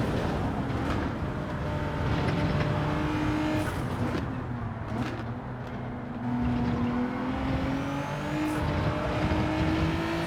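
A Genesis GR4 race car engine in Gran Turismo 7 drones steadily up close, its pitch rising and dipping with throttle changes while another car's engine hums faintly in the background, with no talking.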